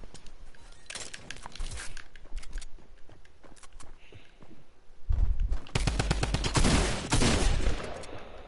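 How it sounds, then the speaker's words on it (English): A drum gun fires in a video game, with short bursts early on and then a long, loud rapid stream of shots near the end, close and dense, with no talk. "Drum gun."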